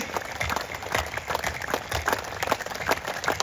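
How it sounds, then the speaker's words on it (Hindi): A group clapping hands hard and fast during a brain-activation yoga exercise: dense, continuous applause-like clapping, close and loud, with uneven bursts and no pauses throughout. "तेज ताली तो बजे जोर से।"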